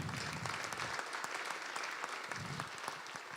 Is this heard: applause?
yes